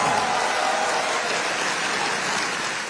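Steady applause for the Prime Minister from a large crowd, a dense continuous wash of clapping that stays loud and slowly tapers at the end, with no voices over it.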